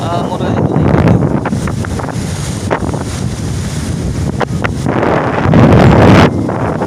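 Strong wind buffets the microphone in heavy gusts over rushing water in Matalom, the roar rising and falling, with a voice faintly audible beneath.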